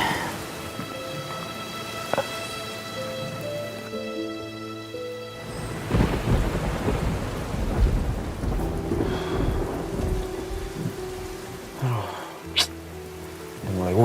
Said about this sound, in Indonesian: Udah mulai hujan lagi.